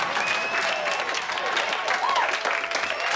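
A studio crowd at a televised singing contest applauds steadily throughout, a continuous wash of clapping with faint cheers mixed in.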